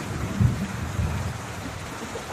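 Heavy rain falls over rice fields in a dense, steady hiss, with low rolling thunder swelling beneath it and no voices.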